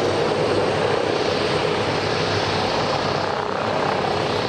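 An Airbus H145 Sécurité Civile helicopter departs, its rotor and turbine producing a steady, loud broadband whir that holds evenly and fades only slightly over a few seconds.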